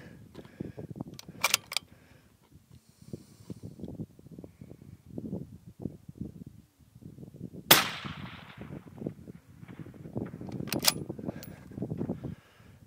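Outdoor gunfire: a few sharp, loud cracks spaced several seconds apart, one ringing with a short echoing tail, over a steady low rumble of background noise.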